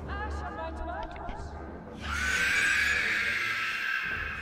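Horses neigh in the Lego Lord of the Rings video game at Weathertop, a drawn-out whinny rising loudly midway and holding to the end, following a stretch of voices and babble.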